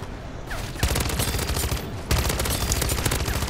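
Buffed SMG fire in MW3 Zombies, with continuous rapid automatic bursts at close range that run loud and dense through the whole stretch and surge briefly after a short lull.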